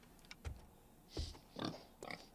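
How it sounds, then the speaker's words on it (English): Pig grunts from the video game 7 Days to Die, four short snorting bursts spaced across the clip with quiet gaps between, fairly close and moderately loud, no talking. "The pig came in here and started a fight with him."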